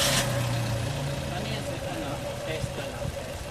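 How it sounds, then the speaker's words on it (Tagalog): A Suzuki Ertiga engine with a freshly refilled radiator rumbles steadily at idle nearby, a continuous low drone with a faint rattle and no clear changes. "pa-start ko muna itong makina"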